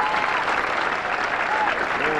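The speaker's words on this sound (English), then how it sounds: "And they're cheering in Coral Springs, Florida, and at Tamarack at the Don Carter Lanes for their pro shop owner." Bowling crowd at a televised pro doubles match cheering and applauding a strike, a steady dense wash of clapping and shouts with a few whistles rising over it, loud and continuous throughout.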